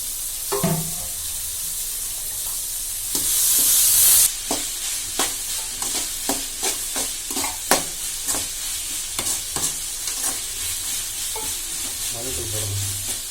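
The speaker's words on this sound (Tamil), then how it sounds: "இப்போ நம்ம கட் பண்ணி வச்சிருக்க காய்கறி போட்டுடலாம்." Chopped carrots and beans stir-frying in a pan, sizzling and hissing under repeated scrapes and clinks of a spoon stirring, with a brief loud burst of steam early on and a faint voice near the end.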